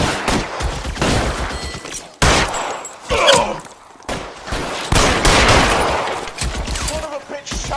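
Gunfire in LA Noire, a series of loud close shots in irregular bursts across a firefight, with brief pauses between volleys and scattered ricochet-like crackles.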